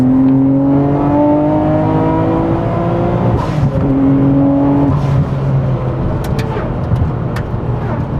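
A Nissan Skyline R34 GT-R with its RB26 engine, heavily modified, roars loudly and continuously, pitch rising and falling through repeated revs, with no talking.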